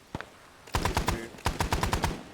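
Gunfire in ArmA during a military training drill: a single distant-sounding shot, then two rapid bursts of sharp automatic fire, each made of several quick cracks.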